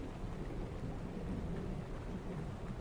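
Thunder rumbling through steady rain during a storm, a dense, continuous low roar with rain hiss, with no clear separate thunderclaps standing out.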